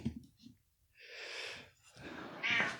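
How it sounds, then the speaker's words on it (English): A shop cat in a small-engine workshop gives a couple of drawn-out meows with breathy snorts between, close and fairly clear, no talking. "We got the shop cat in here"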